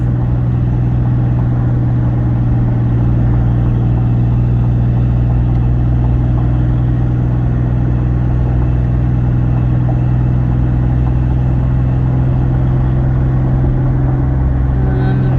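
A 2004 Ford F150 pickup truck drives on the road, heard from inside the cab as a loud, steady low engine and road drone that holds through the whole stretch.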